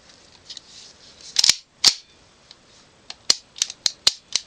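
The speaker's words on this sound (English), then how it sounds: "you don't need a tool to reassemble, then just push in your mag hold open" A CZ-75 9mm pistol being reassembled with its magazine pushed in gives off a series of sharp metallic clicks and snaps. They come close and loud in irregular bursts, with no talking.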